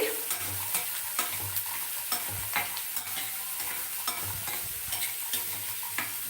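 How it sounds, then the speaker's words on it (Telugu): Food sizzles steadily in a pan while a utensil stirs and scrapes it in regular strokes, close and fairly quiet, with no voices. "సో ఇది వేగుతూ ఉంటుంది చూడండి వేగిపోయింది"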